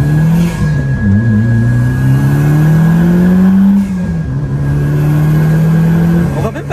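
A Carver One tilting three-wheeler drives along with its engine and turbos droning loudly close up, the pitch climbing and dipping through gear changes, with a thin turbo whine on top while a voice talks.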